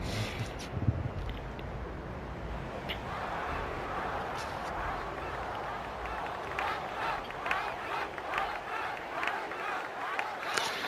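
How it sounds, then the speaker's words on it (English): Crowd cheering fills a Final Fantasy X blitzball match in the video game, a steady stadium roar running throughout with swelling bursts of excitement and no clear talk. "They're cheering for Waka."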